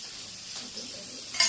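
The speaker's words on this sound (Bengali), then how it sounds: "মাছ ভাজি চুলাই দিয়েছে" Small fish frying in a pan on a village stove, a steady soft sizzle close by with a brief brighter crackle near the end and faint stirring.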